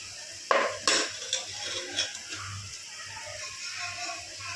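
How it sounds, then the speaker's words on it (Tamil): Chicken biryani masala stirred in a cooking pot: a few sharp metal scrapes and clanks of a spoon against the pot early on, then softer scraping under a steady background hiss. "இதே சும்மா ஒரு கரெக்டாக பரட்டி விட்டுக்கலாம்"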